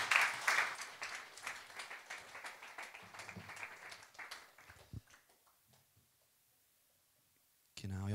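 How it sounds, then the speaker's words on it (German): An audience at a church gathering claps for a speaker after a story, a fairly loud burst that thins out and fades to near silence before a voice briefly cuts in at the end. "Geben wir noch an dich einen Applaus für das Erzählen"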